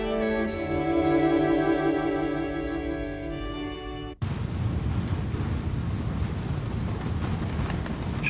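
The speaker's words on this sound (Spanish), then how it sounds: "es terrible como llueve. Llueve todo el tiempo, afuera tupido y gris" Heavy rain pours down in Nicaragua as a steady broadband hiss that comes in abruptly after a held musical tone fades out.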